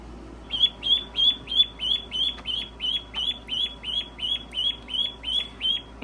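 Young ducklings give rapid, high peeping calls in a steady rhythm, about fourteen close, loud cheeps in a row over a faint low hum, with no talking.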